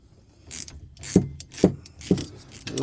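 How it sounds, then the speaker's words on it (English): A ratchet wrench clicks in four quick strokes while tightening a brake caliper bolt on a 2006-2013 Chevy Impala, close and crisp with faint metallic rattles between strokes, and no one talking. "So we're going to just tighten this bolt up and the bottom one."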